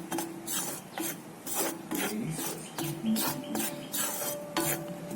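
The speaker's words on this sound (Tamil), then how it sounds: "அதுக்கு ஃபர்ஸ்ட் 1 கப் ராகியை சும்மா லைட்டா வறுத்துக்கிறோம்." Dry ragi flour is stirred and scraped around a hot pan during light roasting, giving repeated rasping strokes in an uneven rhythm, close and moderately loud with no voices.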